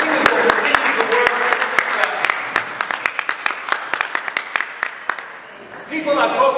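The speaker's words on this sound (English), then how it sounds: "they deserve a round of applause" An audience applauds at a rabbinical organization's announcement event, with scattered claps and loud crowd noise running steadily for several seconds before fading, a voice cutting in at the end.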